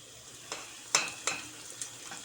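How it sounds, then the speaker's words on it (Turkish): Sweet and hot pepper paste sizzles in a pan, with a few sharp scraping knocks of a spoon stirring it over a soft, steady frying hiss. "Karıştıralım."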